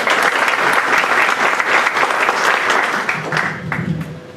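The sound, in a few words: audience applause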